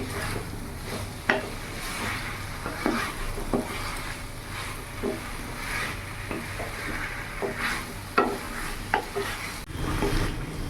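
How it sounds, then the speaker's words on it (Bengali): Mixed vegetables with spices are stir-fried in a pan, a steady sizzle running throughout while a spatula scrapes and knocks against the pan in irregular strokes, close and moderately loud, with no talking. "এইভাবে ভালো করে মেশানো হয়ে গেলে আমি কিছুক্ষণ কষে নেব।"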